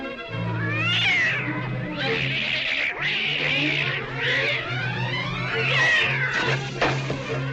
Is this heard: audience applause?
no